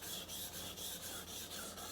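Dull knife being sharpened, steady rhythmic rasping strokes of the blade, about four per second, close and consistent.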